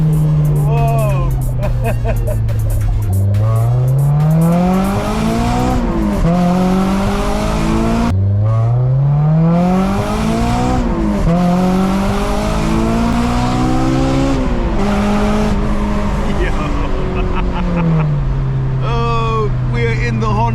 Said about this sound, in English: I'm just enjoying that I'm in a Honda S2000.